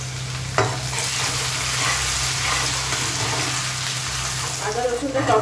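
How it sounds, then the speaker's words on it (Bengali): Ginger and garlic sizzle steadily in hot oil beside dried red chilli for a beef bhutwa, a dense continuous frying hiss with stirring scrapes, loud and close, and a voice briefly audible underneath. "আদা রসুনটা ততক্ষণ ফ্রাই করতে হবে"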